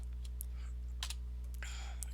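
Computer keyboard typing during game modding work, a few scattered key clicks and short bursts over a steady low hum, faint and fairly close.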